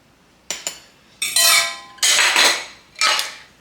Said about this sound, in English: So I'm going to use a clean fork just to help me press everything down